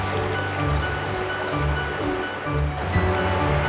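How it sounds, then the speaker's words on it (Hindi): One cup of milk poured into a bowl of chena and sugar for a steamed cake: a continuous, close liquid stream with gentle gurgling and filling sounds, with no talking. "और उसमें 1 कप मिल्क ऐड करूँगी।"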